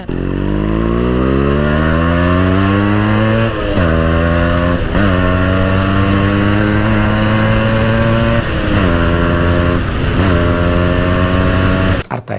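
A Yamaha RX135 two-stroke motorcycle engine revs loud and close, climbing repeatedly in pitch with a raspy buzz before dropping back, and cuts off near the end.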